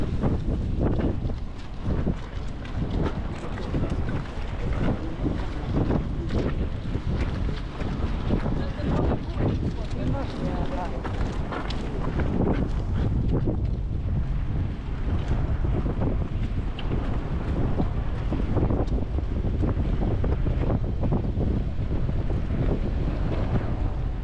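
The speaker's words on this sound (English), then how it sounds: "where we can get some cover from the wind." Strong winter wind buffets the microphone in a Swedish town street, a loud continuous roar and rumble with gusty swells throughout and no talking.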